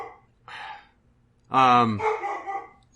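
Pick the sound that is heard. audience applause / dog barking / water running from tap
dog barking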